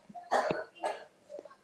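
A child coughs a few times in short bursts at close range, with one or two faint follow-up coughs, in an indoor setting.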